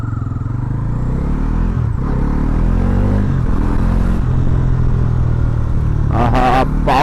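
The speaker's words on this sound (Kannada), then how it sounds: "ಇದರದ್ದು ನಿಮಗೆ ಇಂಜಿನಲ್ಲಿ ವಿಸಿಲ್ ಟೈಪ್ ಸೌಂಡ್ ಬರ್ತದೆ" Bajaj NS400Z naked motorcycle with a 373 cc single-cylinder engine runs on a test ride, a close, steady engine drone whose pitch rises and falls with throttle, ending in a couple of sharper high-pitched surges.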